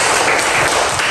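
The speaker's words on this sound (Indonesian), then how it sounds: "Tepuk tangan sekali lagi." Applause in an elementary school class presentation session, a dense, loud, continuous wash of clapping that holds evenly throughout with no voices over it.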